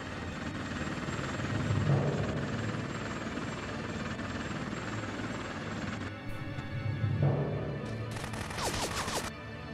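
A helicopter attacks a base in the video game Bullet Witch, its rotor droning loudly throughout while bursts of machine-gun fire and swelling engine passes rise and fall, ending with sharp high crackling shots.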